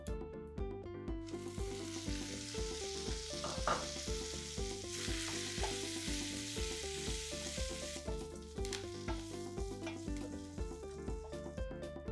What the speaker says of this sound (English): Next I am going to add the curry leaves